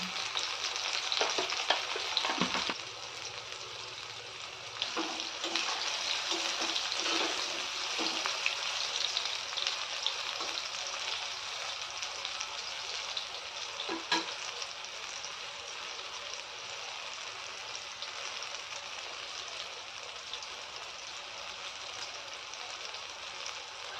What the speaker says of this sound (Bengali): টুকরোগুলো দিয়ে দেবো, ওটাও একটু ভালো করে ভেজে নেব।